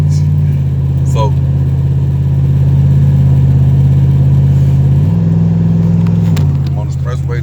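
A Dodge Ram 1500 pickup carrying a refrigerator in the bed drives along an expressway, its engine a loud, steady low drone with a slight shift in pitch partway through.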